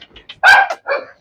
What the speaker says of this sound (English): They usually bark and snarl at me.